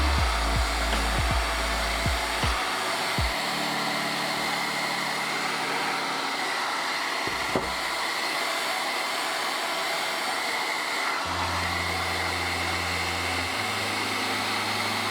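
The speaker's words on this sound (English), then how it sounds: "Heat from a hairdryer activates the oil inside of the leather" Steady, loud whir of a hair dryer heating leather before carving, running continuously, with occasional low thumps and knocks from handling underneath.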